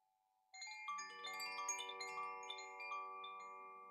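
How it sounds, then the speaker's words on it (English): Chimes ring out in a sound healing session, struck after a quiet opening, then building into many layered, sustained bell-like tones that shimmer and overlap for several seconds without any talk. "And tonight is a night of chimes."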